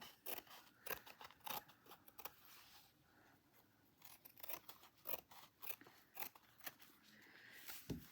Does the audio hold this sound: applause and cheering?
no